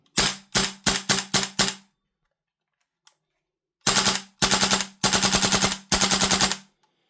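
A WellPro AK12 airsoft gas blowback rifle fires full-auto bursts, each a fast, crisp stream of rapid cracks: five short bursts early, a pause, then four longer sustained bursts, loud and close with no talking.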